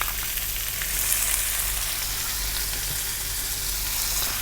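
Onion with ginger garlic paste frying in a pan for Indian achari chicken curry, a steady, close sizzle with broad hiss running unbroken throughout, no voices.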